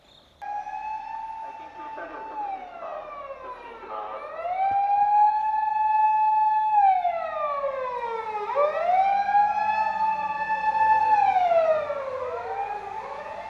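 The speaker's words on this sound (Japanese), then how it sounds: "覆面パトカーが走っていきました。" An unmarked police car's siren wails as the car drives past a late-night intersection in Kagoshima, a loud rising and falling tone that sweeps through and lingers for the whole stretch.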